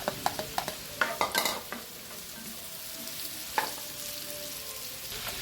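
Onion sautés in olive oil in a pan for beefsteak Tagalog, with a quiet steady sizzle, a burst of sharp stirring scrapes near the start and another scrape midway.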